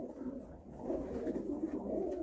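Pigeons coo softly and continuously, low burbling calls overlapping at close range.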